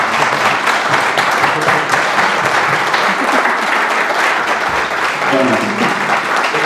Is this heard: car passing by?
no